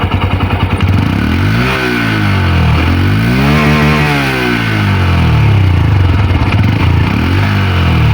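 A Honda CB125 motorcycle exhaust runs loud and close, revving up and easing back down in a couple of smooth sweeps over a steady idle.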